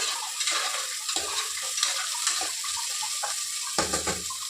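Onion, tomato and cardamom fry in a pan while being stirred, producing a close, steady sizzle with repeated scraping and clattering strokes of the spoon and no voices.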